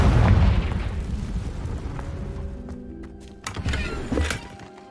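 A Confringo blasting spell explodes in Hogwarts Legacy: a loud, deep boom opens and rumbles away over a few seconds, followed by a second, smaller burst with debris-like crackles.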